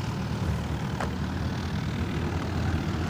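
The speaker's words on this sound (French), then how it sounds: "on voit Jojo qui décolle juste à côté des pompes à essence" A light aircraft takes off near the fuel pumps of an airfield, its propeller engine droning loudly and steadily throughout with a broad continuous roar. No one speaks.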